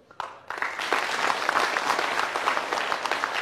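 An audience at an Indonesian televised talk show breaks into sustained applause, rising after a brief lull into a dense, even wash of clapping that holds steady to the end.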